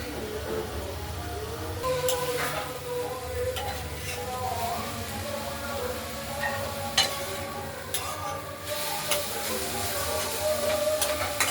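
A radish curry with coriander leaves and lentil dumplings sizzles in a pan while being stirred repeatedly, a continuous frying hiss broken by scraping strokes and occasional sharp clinks of the utensil against the pan.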